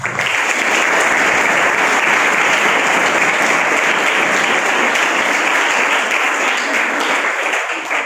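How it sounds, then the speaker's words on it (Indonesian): An audience at an Islamic boarding school lecture breaks into dense, sustained applause, loud and continuous from start to finish without any voices standing out. "Tepuk tangan untuk kita."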